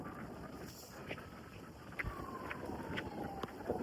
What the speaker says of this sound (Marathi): आणि मस्तपैकी जबरदस्त वारा सुटलाय